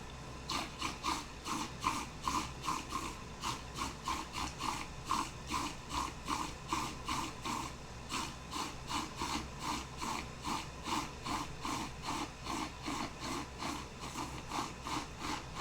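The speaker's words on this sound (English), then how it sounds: "Whisk this up." A whisk beats a mixture in a bowl with fast, steady rhythmic scraping strokes, close and fairly loud, continuing evenly throughout with no talking.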